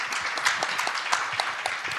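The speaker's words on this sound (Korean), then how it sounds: "여러분 박수 한번 크게 부탁드리겠습니다." A conference audience applauds steadily with dense, continuous clapping at moderate loudness, heard alone without speech.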